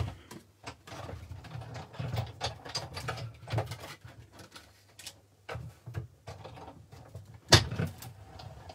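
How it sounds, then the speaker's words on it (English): A craft die-cutting machine runs with irregular clicking, rattling and grinding noises at close range, quiet overall with one sharper knock near the end, and no speech. "let me just run this one through my die machine."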